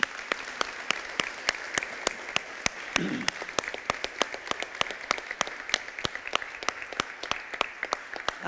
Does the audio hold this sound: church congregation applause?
yes